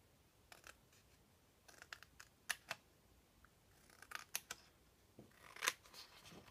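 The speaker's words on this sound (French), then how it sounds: "Donc je coupe d'abord droit pour avoir mon grand rectangle bien droit" Scissors snip a paper rectangle straight along its edges in a crafting session, a series of short, crisp, close cuts in small clusters, quiet and without talk.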